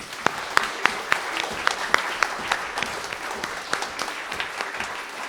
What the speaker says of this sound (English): please a huge round of applause for the customer service team